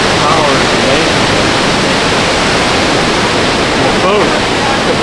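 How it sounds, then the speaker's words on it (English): Niagara Falls roars in a loud, unbroken wash of falling water, heard up close from a boat near the base of the falls. "The power of this waterfall is just unbelievable."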